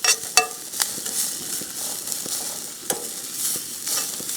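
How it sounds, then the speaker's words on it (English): Garlic stirred and frying in oil in a camp oven on a stove outdoors, a steady close sizzle broken by sharp spoon scrapes and clinks against the pan, with no speech. "mixing it through the oil, mixing it through the garlic"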